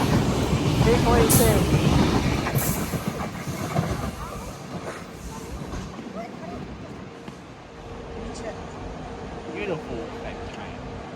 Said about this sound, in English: Beautiful fake train.